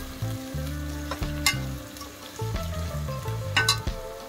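Whole spices for veg pulao, including black pepper, cloves, cinnamon, star anise and cardamom, roast in a hot pan with a lively sizzle and clinking stirs, close and moderately loud.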